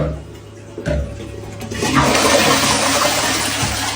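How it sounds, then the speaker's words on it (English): A toilet flushes loudly up close, a short clunk of the handle followed by a rushing, gurgling surge of water that carries on to the end. "Why did we just cut to a shot of her flushing a toilet?"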